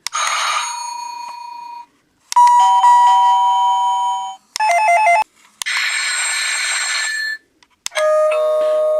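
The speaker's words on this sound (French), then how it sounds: "Vous pouvez choisir la sonnerie." A Silvercrest wireless doorbell cycles through several selectable chimes, five distinct bright melodic ring tones and ding-dong patterns separated by short silences, loud and close with no talk.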